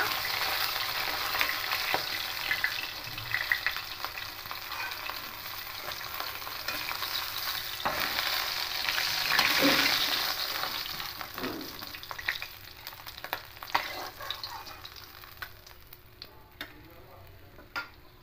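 Live Lyle tilapia fish fries in a small amount of oil, a steady close sizzle and crackle with intermittent spatula scrapes and clicks throughout, no voices.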